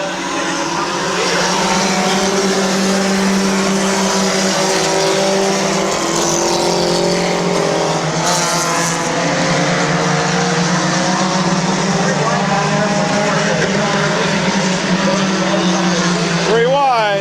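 Race cars circle the oval at Midvale Speedway, with loud engines droning and rising in pitch as they pass. A commentator talks steadily over the racing throughout.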